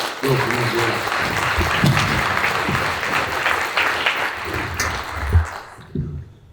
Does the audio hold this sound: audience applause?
yes